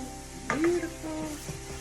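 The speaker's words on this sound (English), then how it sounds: "Now that the onions are starting to sweat, I'm able to really scrape off all of those brown bits off of the bottom of the pan." Onions sizzle and fry in a pan with a brief scraping stir across the bottom to loosen browned bits, steady hiss under a short louder scrape, close and fairly quiet.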